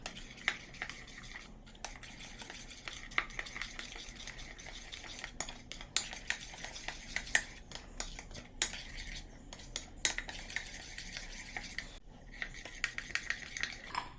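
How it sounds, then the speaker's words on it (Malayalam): A spoon stirs ground coriander and roasted cumin powder together in a bowl while making Afghani paneer, with steady scraping and light clinks of metal against the dish, close and continuous with no talking. "ഇനി ഇതെല്ലാം കൂടെ ഒന്ന് മിക്സ് ചെയ്ത് കൊടുക്കാം"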